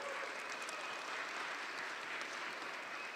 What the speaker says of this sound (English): Thank you, Eva, for starting that clap